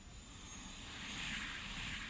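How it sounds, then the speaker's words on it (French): A bomber squadron flies past in the World of Warships Blitz video game as a faint, continuous propeller-aircraft drone that swells slightly midway. "Escadron de bombardiers en vol."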